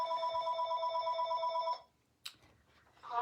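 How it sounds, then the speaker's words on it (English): A telephone ringing during a live stamping craft demonstration, a steady electronic trill with bright stacked tones that holds for nearly two seconds, then stops, followed by a short click and quiet room noise. "I thought I had muted that phone."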